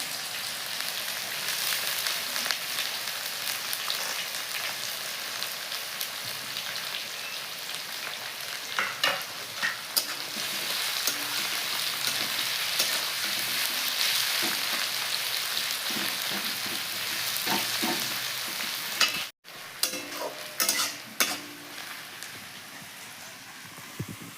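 Chopped onions sizzle and fry in a pan for rajma, a steady crackling hiss throughout with occasional stirring clatter and a short break near the end.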